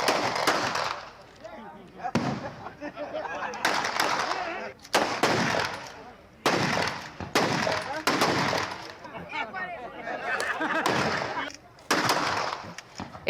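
Gunfire at a wedding, more than 150 rounds fired, heard as loud bursts of rapid shots in clusters separated by short gaps, with crowd noise and voices mixed throughout.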